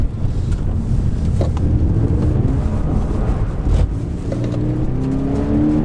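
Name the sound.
2013 Toyota GT86 engine, sliding sideways around a corner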